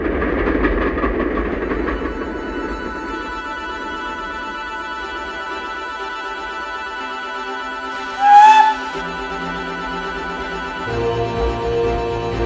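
The King's train passes by in a cartoon setting, a mechanical rumble and rattle that fades, then a brief sharp whistle-like blast, followed by low rolling sounds.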